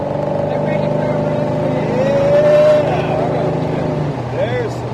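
A 1968 Chevelle with a 383 engine idles and revs, a steady rumbling engine with one rising rev swell in the middle, heard fairly close and continuous throughout.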